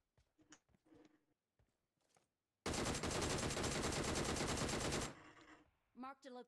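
Gunfire in the mobile battle royale game PUBG Mobile comes as one sustained, loud automatic burst lasting a couple of seconds. Quiet footsteps precede it and a voice speaks briefly afterward.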